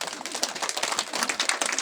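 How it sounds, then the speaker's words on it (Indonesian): Scattered hand claps from a crowd at an outdoor village head election campaign gathering, dense patter of many hands clapping steadily at moderate distance for a couple of seconds. "Tepuk tangan anta untuk Ngelang."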